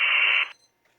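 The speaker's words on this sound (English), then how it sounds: "let's turn the air blower on" A short burst of rushing, hissy wind noise from an air blower through a Motorola XPR portable radio speaker in analog mode, cutting off abruptly after half a second and leaving near silence.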